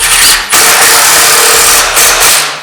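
Power tool driving screws into wood for a small winter woodworking project, a loud steady motor whine running almost continuously with brief dips near the start and end.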